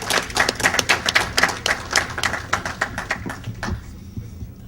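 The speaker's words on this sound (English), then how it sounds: "another round of applause" An audience at a talk applauds, with dense, steady clapping that carries on for several seconds and then thins out near the end.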